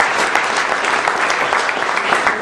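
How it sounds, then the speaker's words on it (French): Audience applause at a PTB party rally, loud dense clapping from a large crowd filling the whole stretch without a break, with some crowd noise mixed in. "on peut encore applaudir le parti pour cette percée."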